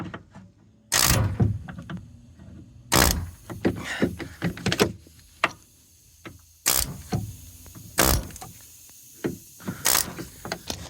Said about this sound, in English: we're gonna grab this McGraw air hammer that we got from Harbor Freight